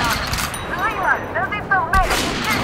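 Rifle gunfire in the video game Metro Last Light, a few sharp reports amid game noise, with warbling creature cries in between and someone speaking over it.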